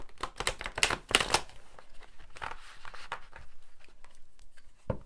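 Tarot cards from the Chrysalis deck are shuffled by hand in a quiet room, giving a burst of crisp riffling and slaps early on, softer shuffling rustle through the middle, and one sharp tap near the end.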